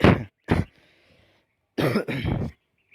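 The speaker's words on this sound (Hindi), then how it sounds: "थोड़ी बहुत खांसी है आज" A person recovering from Covid-19 coughs at home: a burst of four or five loud, close, harsh coughs in short clusters separated by brief pauses, with no talking.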